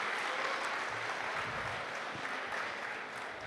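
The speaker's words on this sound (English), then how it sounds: "can you guys give them a round of applause" A crypto conference crowd gives a round of applause, a dense, steady patter of many hands that is fairly quiet and even, tapering slightly toward the end.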